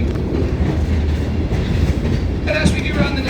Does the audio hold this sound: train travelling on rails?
yes